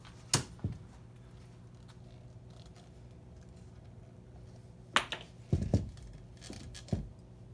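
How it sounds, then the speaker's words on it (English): Plastic film for a tractor-style motorcycle seat reupholstery is cut: one quick snip at the start, then a cluster of crisp cuts a few seconds later, close and clear over a faint background hum. "I'm gonna cut the film."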